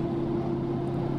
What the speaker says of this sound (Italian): Tengo un po' le marce basse ad alti regimi per sfruttare la potenza del freno motore